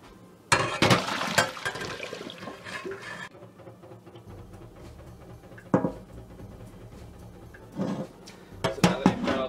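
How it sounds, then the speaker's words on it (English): Cooked pasta water pours into a colander with splashing and gurgling, followed by metallic clatters of the pot and colander, with quieter dripping between the bursts. "turn off the stovetop and bring your water to a colander"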